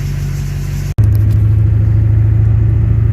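A Duramax diesel truck engine with a rough-running fault drones in a loud, steady, low idle close up. One momentary cut interrupts it early on, and nobody speaks.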